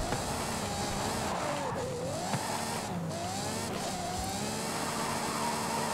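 A Ferrari driven hard, its engine revving and pitch sweeping up and down through gear changes, with light tire squeal, continuous and fairly close with no talk.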